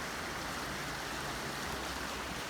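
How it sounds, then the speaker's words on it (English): Floodwater rushes along a swollen creek in a steady, even roar, a close broadband wash with no pauses and no voices. "We've got a big flood all around this."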